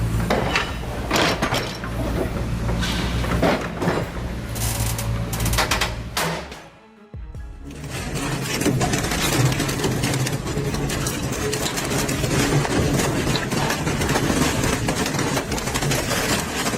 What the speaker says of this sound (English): The bike and engine clearly lost today's battle against the shredder.